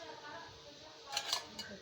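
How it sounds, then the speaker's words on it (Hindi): Dishes and milk bottles are washed in a home kitchen, giving faint, close clinks and scrapes of utensils and pots over a low wash of running noise, with a few brighter clatters near the end. "तो उस वक्त तक हम बर्तन धो लूँ मैं।"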